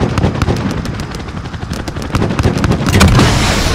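Viper attack helicopter gunship opening fire on troops on an airfield tarmac in a Call of Duty Modern Warfare cutscene: dense, loud rapid-fire bursts and cracking impacts rolling continuously, swelling heavier near the end.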